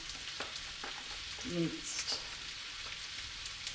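Minced garlic sizzles in a tablespoon of sesame oil in a frying pan, a soft continuous crackle with light pan scrapes and a brief clatter midway, no talking over it.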